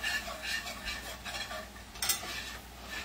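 A utensil passes lightly over a frying pan while breakfast cooks, making soft, close scraping and stirring strokes with a faint sizzle beneath and one brighter metallic scrape near the end.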